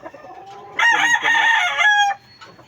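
A rooster crows loudly and close by, a long strained call, with a few clucks before and after.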